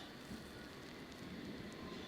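A London Underground train arriving, a faint low rumble of wheels on rail with a thin squeal, steady throughout the short stretch and heard from a distance with no talk.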